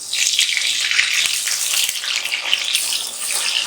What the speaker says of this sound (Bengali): এবার আমি এই সমস্ত বেগুনটাকে ভেজে নেব।